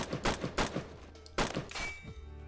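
G3 DMR rifle fire in the Roblox shooter Phantom Forces: several sharp, fast semi-automatic cracks in quick bursts, each with a short ringing tail, fairly quiet overall.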